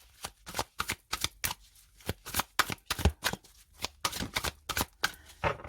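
Tarot cards being shuffled by hand in a quick, irregular series of crisp riffling slaps and flutters, close and clear with no talking.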